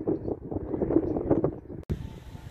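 Gusty wind near the sea buffets the microphone with low rumbling noise while a person talks underneath in French, ending with a brief dropout and a sharp click.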